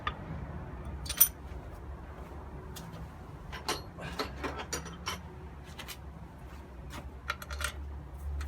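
A torque wrench turns manifold bolts in quiet, sharp metallic clicks, some single and some in quick clusters, fairly faint against a low hum.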